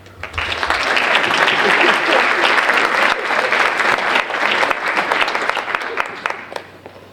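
A round of applause at a high school senior awards ceremony: loud, sustained clapping from a large crowd that builds quickly, holds steady and begins to thin toward the end.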